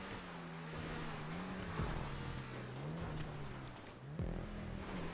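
Car engine droning steadily with pitch swells and dips during a GTA Online stunt race in Grand Theft Auto V, loud and continuous with a brief jolt near the end.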